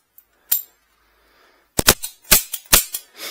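Webley revolver operated in double action, its hammer and mechanism giving sharp metallic clicks and snaps: one isolated click, a pause, then a quick series of loud, close clacks.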